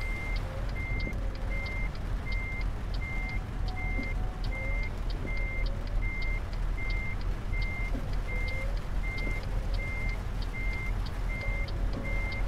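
A truck in Euro Truck Simulator 2 backs up during a three-point turn, its reversing alarm beeping in a steady rhythm over a constant engine hum.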